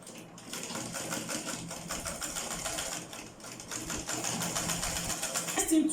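A sewing machine stitching turban cap pieces together, a fast continuous mechanical rattle running steadily for several seconds at moderate volume, close by.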